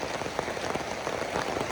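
Steady rain falls in a rural setting, a dense, even patter of drops on surfaces that holds constant and fairly quiet throughout.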